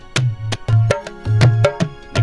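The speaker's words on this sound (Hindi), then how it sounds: "देखो नाल की आवाज है" A looped naal barrel-drum rhythm, Chhattisgarhi style, with deep resonant bass strokes and sharp slaps, repeating steadily and loud with no voices.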